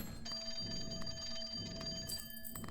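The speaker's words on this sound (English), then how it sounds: "The phone is ringing." An old-fashioned telephone bell rings steadily in the horror slot-machine game Clover Pit, a bright metallic trill repeating in short bursts over a low droning background hum.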